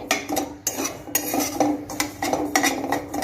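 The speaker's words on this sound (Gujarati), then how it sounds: "આ રીતના આપણે મીડિયમ ગેસ પર આને શેકી લેવાનું છે અને આપણે સતત હલાવતા રહેવાનું છે" Semolina (rava) for upma dry-roasted in a pan over a medium gas flame and stirred continuously, giving rhythmic, close scraping and clinking of a metal spoon against the pan.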